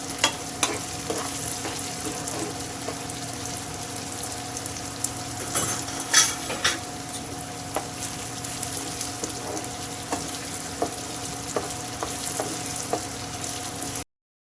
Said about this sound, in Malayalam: അപ്പോൾ മീഡിയം ടു ഹൈ ഇതിൽ വെച്ച് നമ്മൾ ഇളക്കിക്കൊണ്ടിരിക്കുക നന്നായിട്ട്, അല്ലെങ്കിൽ പെട്ടെന്ന് കരിഞ്ഞു പോകും